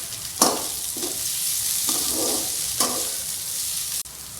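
Green chilli, ginger garlic paste and curry leaves fry in hot oil, giving a constant close sizzle broken by several brief flares and scrapes of stirring.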